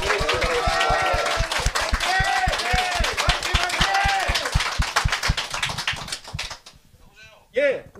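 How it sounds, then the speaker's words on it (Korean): A live audience claps in a steady, rhythmic beat to cheer on a presidential candidate during a political broadcast with cultural performers. The claps run under continuous speaking and fade out near the end. "박수로 여러분 응원해 주시기 바랍니다."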